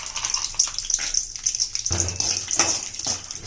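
A handful of peanuts dropped into a pan with a little hot oil, giving a loud, continuous close sizzle and hiss that swells briefly midway.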